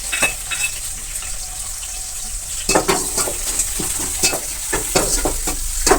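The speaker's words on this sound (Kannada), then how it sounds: "ಈರುಳ್ಳಿ ಹಸಿ ವಾಸನೆ ಹೋಗಿ ಸ್ವಲ್ಪ ಗೋಲ್ಡನ್ ಬ್ರೌನ್ ಆಗಬೇಕು, ಅಲ್ಲಿವರೆಗೂ ಫ್ರೈ ಮಾಡ್ಕೊಳ್ಳೋದು" Curry leaves, green chillies and onion frying in oil in a pan, a steady sizzle with a quiet stretch before repeated spatula scrapes and stirs, close and loud with no talk.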